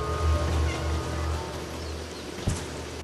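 A cat in the video game Stray meows a few times at low volume over ambient game sound, ending with a short soft thump.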